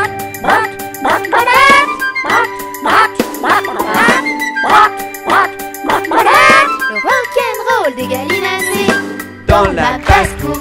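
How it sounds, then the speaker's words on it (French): Sung children's nursery rhyme with duck quacks mixed into the music, busy melodic backing with bells and voices, loud and continuous throughout. "Il y a même des canards qui barbotent dans la main."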